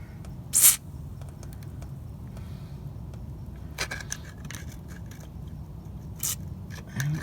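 A short burst of WD-40 lubricant sprays from an aerosol can onto a stuck part of a Chevy C10 front suspension being lowered, a sharp hiss near the start followed by another brief spray later over quiet workshop background.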